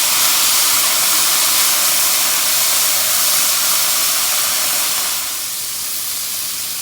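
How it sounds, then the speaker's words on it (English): Soy, balsamic and red wine sauce hits cooking vegetables and sizzles, a loud, dense, continuous hiss of steam that eases off slightly toward the end, with no one talking. "we want to put that right on top of our veggies and let them cook down for just a few minutes."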